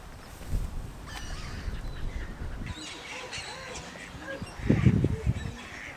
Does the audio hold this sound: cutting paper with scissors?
no